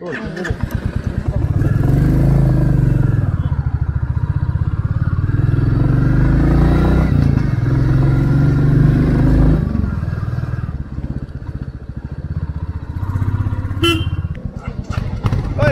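A new motorcycle rides along a road near Darjeeling, its engine droning loudly and steadily with occasional horn toots and clatter, while people talk over the engine throughout.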